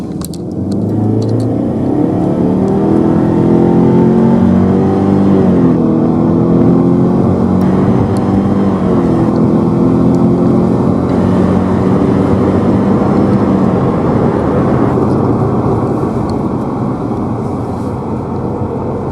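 A Subaru Levorg 1.6 DIT turbo engine held at full throttle, loud rising revs climbing through the gears with a steady droning rumble, heard close from inside the car with no speech.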